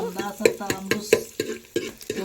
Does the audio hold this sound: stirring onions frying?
yes